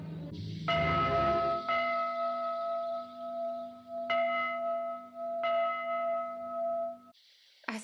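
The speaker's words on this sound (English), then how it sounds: "It was like the church bells saved her." Church bells in the 1927 silent film Sunrise toll in a slow, ringing sequence, several clear strikes with long sustained tones fading between them, fairly loud over a quiet background.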